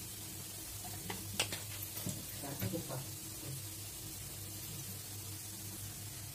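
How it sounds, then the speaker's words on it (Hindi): A small amount of mustard oil goes into a hot kadhai for a Veg Manchurian gravy, giving a faint, soft sizzle with a few light clicks and spatters that fade into a quiet steady hiss. "इसमें हम डाल रहे हैं सरसों का तेल थोड़ा सा"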